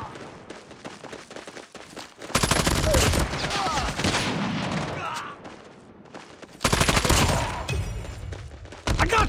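Bursts of automatic gunfire in Call of Duty: Mobile during a hardpoint match, loud and dense, with two heavy volleys separated by quieter footsteps and game noise, and voices talking over parts of it.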